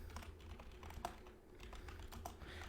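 Keystrokes tap out unevenly on a computer keyboard, close and fairly quiet, in short bursts with brief pauses and no talking.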